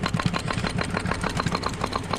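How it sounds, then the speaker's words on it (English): A tractor engine runs steadily with a low, pulsing mid-range drone while a tamping tool sets a fence post for a bull pen, loud and close throughout with no talk. "You can rev it up, rev the tractor up the throttle, and it'll go a little faster."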